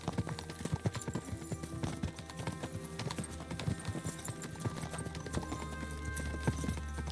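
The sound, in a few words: horse hooves trotting in video game Kingdom Come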